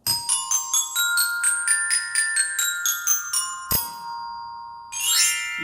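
Metal bell-kit keys, xylophone-style, struck with the two supplied mallets, ringing out as a bright run of about a dozen evenly spaced notes. A single sharp hit and a brief shimmering tinkle follow, with no voice.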